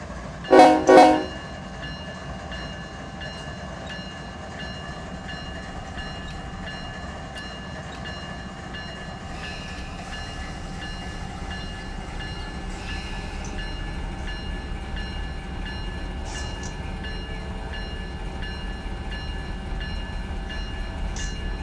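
Freight train in the Run8 train simulator at Selkirk Yard: two sharp horn blasts at the start, then a long steady low rumble of the locomotive and wagons moving forward, with faint metallic clanks and squeals building slowly.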